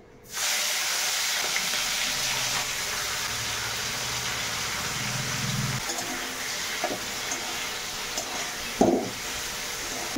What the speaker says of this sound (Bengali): তেলটা গরম হয়ে গেছে, এখন চিংড়ি মাছটা দিয়ে দেবো।